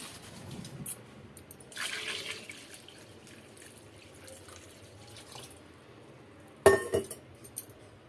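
A few ripe mangoes go into water in a container in a home kitchen, giving quiet splashes and clinks, with one sharper watery clatter near the end against a faint background.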